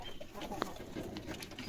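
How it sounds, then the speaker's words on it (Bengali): Pigeons on a poultry farm coo softly and faintly, with a few brief bird calls and clucks scattered over quiet background noise. "এই যে আমার কবুতরগুলো"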